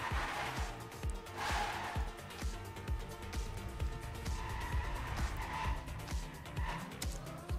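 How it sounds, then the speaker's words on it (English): Race car engine in a racing video game, revving in rapid repeated pulses through gear shifts during a speed drift, with tire noise and a faint commentator voice underneath. "That's a good speed drift from Jerem."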